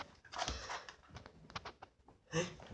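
A dog indoors pants and snuffles softly close by, with faint patters and a brief louder snort near the end, all quiet and intermittent.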